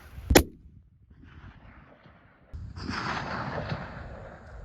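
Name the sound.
rifle shot at a red stag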